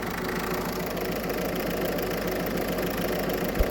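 A car with a dangerous oil leak idling steadily during a leak test, a low, even engine hum with a faint knocking vibration and one brief thump near the end.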